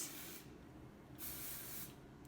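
Kenra 25 hairspray hisses from an aerosol can onto hair in three short bursts: a brief one at the start, a longer one in the middle and a quick one at the end, close and fairly quiet.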